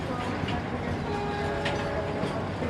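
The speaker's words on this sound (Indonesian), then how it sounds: "Wih, kita nyampe Tegal, ada kereta BBM." A fuel tanker freight train sits or rolls at Tegal railway station, with a steady rumbling clatter, faint squeals and tonal hums, and speech heard beneath it.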